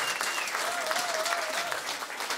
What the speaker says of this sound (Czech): Teď je to potlesk pro vás